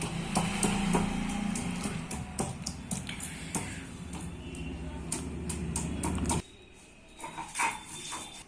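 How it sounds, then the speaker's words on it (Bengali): Ginger and garlic are ground into a paste with a rhythmic run of close knocks and scraping. It stops abruptly, then a few fainter knocks follow. "আদা রসুনটা বেটে নেব।"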